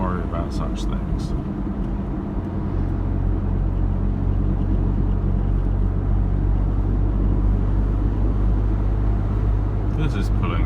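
Small smart CityCoupé engine pulls steadily in sixth gear, a constant low drone and road rumble filling the cabin throughout, loud and unbroken, with faint ticks near the start and end.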